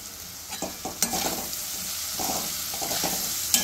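Green chillies, finely chopped ginger and curry leaves frying in oil for ragi upma make a steady hiss, with several sharp spatula scrapes and stirring knocks near the pan.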